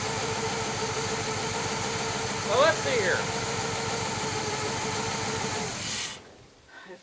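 A big-block 1966 Chevy Biscayne, abandoned and restarted for the first time since 2003, idles with a steady low rumble while someone speaks over it, and the engine cuts off near the end.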